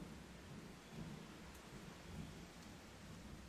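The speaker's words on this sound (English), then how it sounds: "There's rain sound." Steady rain hisses and patters throughout, with a low rumble of distant thunder rolling beneath it. The sound is faint and continuous, with no voices.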